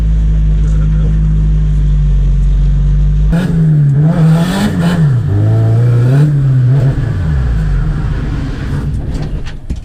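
A drift car on a wet track at a Mt Gambier drift event holds a loud, low steady engine drone, then bursts into aggressive revving with rising and falling pitch swings, close and dominant throughout.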